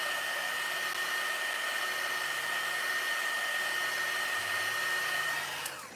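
A hair dryer blows steadily on wet paint on a handmade sign, a loud continuous whooshing whine that runs unbroken and then cuts off at the end, with no talking.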